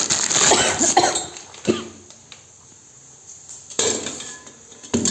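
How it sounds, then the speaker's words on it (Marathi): Jaggery is grated by hand in a home kitchen. Rough scraping bursts come in two close clusters, separated by a quieter pause. "आणि गुड आहे माझ्याकडे, गुड किसून घेते।"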